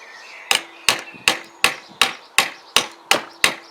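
A hammer drives a part onto a Tamoretti Retro 50 in nine sharp, evenly spaced blows about a third of a second apart, each a loud close crack with a short ringing tail, and no talking.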